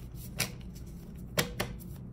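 Tarot cards are shuffled and drawn during a card reading, heard as a few soft, quick riffling slaps spaced apart, close by over a low background rumble.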